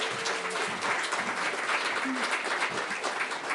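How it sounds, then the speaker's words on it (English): Steady applause from an audience at a live storytelling event, continuous dense clapping throughout, with a few voices faintly audible beneath it. "Another round of applause for Tim."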